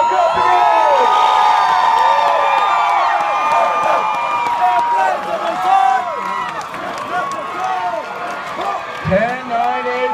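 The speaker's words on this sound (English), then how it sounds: "Make some noise for your Marines of Hotel Company." Crowd cheering, whooping and shouting for Marines of Hotel Company at a Marine Corps Recruit Depot graduation, loud and sustained throughout with an announcer's voice over the top.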